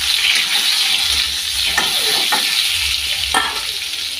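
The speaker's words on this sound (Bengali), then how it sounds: "তেজপাতা দিয়ে দিচ্ছি।" Bay leaves dropped into hot oil in a pan along with potato, a steady bright sizzle with a few scraping stirs of a utensil partway through, close and continuous with no talking.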